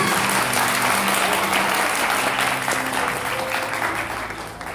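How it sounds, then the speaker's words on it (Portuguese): Children in a church clap together in a sustained, lively round of applause that carries at full strength and then slowly thins and fades toward the end. "Crianças, aplauda o nome do Senhor bem alegre."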